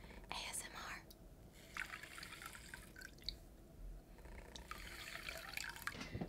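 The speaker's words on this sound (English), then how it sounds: "squeezing out my sponge in the water." A makeup sponge squeezed out in a basin of water gives soft, close, quiet drips and trickles in brief bursts, with faint whispering under the liquid sounds.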